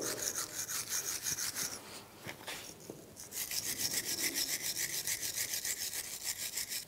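A brush scrubs corrosion off the brake caliper bracket of a 2001-2006 BMW 325Xi, quick rhythmic rasping strokes close by, pausing briefly midway before resuming steadily, with no talk.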